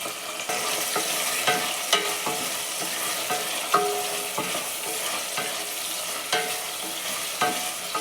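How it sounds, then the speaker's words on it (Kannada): Dried field beans fry in oil with a bright continuous sizzle, punctuated by repeated scraping stirs of a spoon against the pan, close and steady with no voices. "ಇದನ್ನು ಸ್ವಲ್ಪ ಚೆನ್ನಾಗಿ ಎಣ್ಣೆಲೆ ಫ್ರೈ ಮಾಡ್ಕೊಳ್ಳೋಣ"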